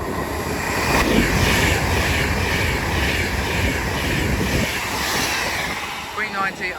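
An Avanti West Coast train from London Euston to Manchester Piccadilly roars through Watford Junction station at speed, a loud sustained rush of wheels and air that fades slightly near the end, with a voice talking over it.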